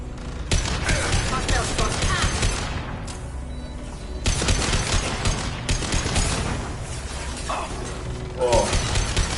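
Enemy gunfire in the video game Mass Effect 2 rattles in loud sustained bursts, with a clattering volley first, a short lull, then more heavy fire and impacts, and brief mechanical clicks in between.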